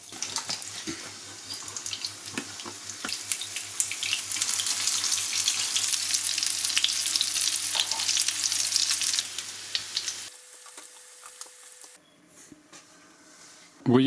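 Breaded chicken nuggets, dipped in flour, egg and breadcrumbs, frying in a pan: a bright crackling sizzle with some clatter and rhythmic low thumps, fading out near the end as the sound cuts away.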